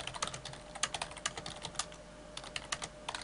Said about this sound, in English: God, how loud do you type?